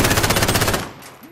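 Rapid automatic gunfire from a multiplayer firefight in Call of Duty: Modern Warfare (2019), Operation Docks map, a loud steady burst of closely spaced shots lasting most of a second before cutting off to quieter background noise.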